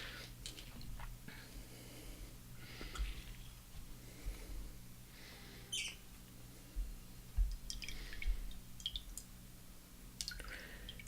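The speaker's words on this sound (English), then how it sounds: "When the droplets go in the water" Droplets of Jacques Herbin ink fall into water, making faint, scattered drips and soft splashy ticks spread irregularly over a quiet background hum.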